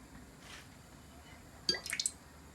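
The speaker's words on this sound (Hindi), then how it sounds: "हमने 1 कप तेल डालना है।" A cup of cooking oil is poured into a pan, heard as a brief cluster of close, wet glugging drips near the end after a quiet start with low room noise.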